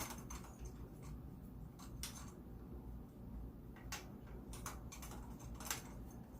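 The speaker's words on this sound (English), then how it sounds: "So I'm holding down here and I'm just spinning it. That's all I'm doing. Tightening it up." A Granite Designs Stash RT ratchet spun by hand to tighten a fine-threaded bolt gives faint, quick irregular clicking over a low, steady background hum, with no talk.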